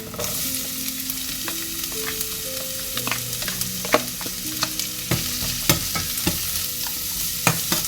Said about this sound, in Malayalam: ഇതിലേക്ക് നമ്മൾ സവോള അരിഞ്ഞ് വെച്ചിരിക്കുന്നത് ഇടുവാണ്